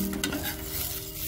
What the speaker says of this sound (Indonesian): kita panggang satu sisi roti sampai sedikit kecoklatan